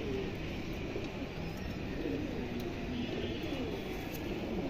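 Female pigeons coo softly in a loft, low murmuring calls repeating over a steady background hum, with occasional faint chirps and no speech.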